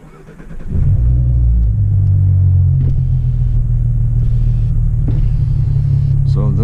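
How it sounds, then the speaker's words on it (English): A 300 horsepower Ford Mustang drives along, its engine a loud, steady low rumble heard from inside the car after the revs climb at the start, with a voice talking over it. "It's just driving my 300 horsepower Mustang to a coffee shop"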